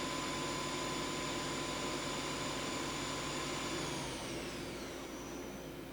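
The spindle of a new 2011 Yama Seiki GA-2000 CNC turning center runs at 3,000 RPM, giving a steady, faint machine whir with a high whine that fades slightly toward the end.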